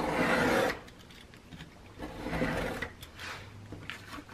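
A rotary blade slices through layered remnant fabric in a sewing project, giving a rough scraping cut up close, one longer pass followed by a couple of shorter passes.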